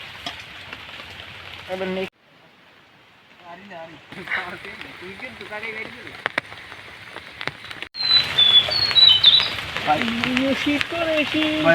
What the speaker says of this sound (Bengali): এমন সময় বৃষ্টিটা আইছে ক